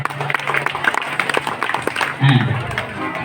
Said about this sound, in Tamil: அவருக்கு ஒரு கைத்தட்டல் கொடுங்க